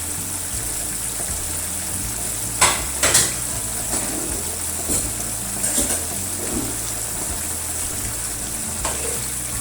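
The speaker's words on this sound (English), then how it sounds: "Now let's add the fried fish gently, one by one." Pieces of fried fish go one by one into a pan of garlic black bean sauce. A constant sizzle runs under a few sharp clinks of a utensil against the pan, and no one speaks.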